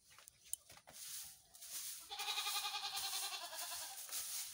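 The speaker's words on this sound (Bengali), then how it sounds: "প্রথমে ওই ছাগলগুলো বের করে দিয়েছি" Goats bleat outdoors on a rural homestead, a few faint distant cries at first, then a long wavering bleat that carries through the second half over a quiet background.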